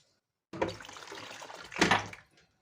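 Hot water poured from a glass into a bowl for simit dough, a steady splashing pour lasting about two seconds that swells louder near the end before tapering off, with no talking.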